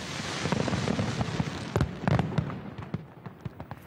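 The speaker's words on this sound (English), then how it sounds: "Sydney welcomes 2021 with a fireworks display over a mostly empty harbour" New Year's Eve fireworks over Sydney harbour, a dense rumble of distant bursts giving way to sharp, separate cracks and pops near the end.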